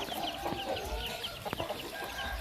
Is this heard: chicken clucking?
yes